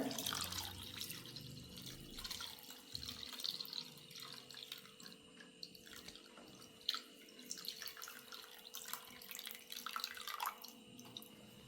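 Liquid poured slowly into a compound mixture, a faint, steady trickle and dripping with soft intermittent splashes, close and quiet, with no talking.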